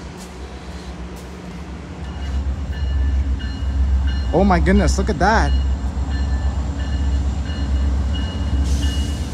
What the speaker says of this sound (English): I think that's a freight train.